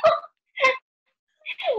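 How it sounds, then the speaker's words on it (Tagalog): A dog barks three times in short, sharp yaps spaced out by pauses, fairly close and loud, with no talk over it. "At ba't may tumatahol na aso?"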